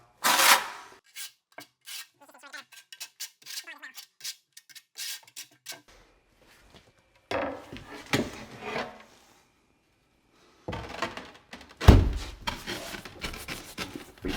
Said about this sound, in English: make sure you back butter your tile with the back side of the trowel